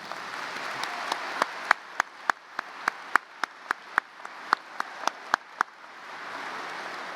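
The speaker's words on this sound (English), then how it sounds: "A round of applause for our stage guests." Sparse applause at a high school graduation for stage guests, soft background clapping with a string of distinct, evenly spaced loud claps standing out near the microphone.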